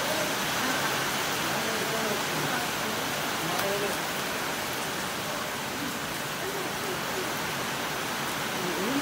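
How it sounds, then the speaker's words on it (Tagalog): Heavy rain pours in a dense, continuous hiss during a birthday gathering, with faint voices murmuring underneath. "Lakas ng ulan."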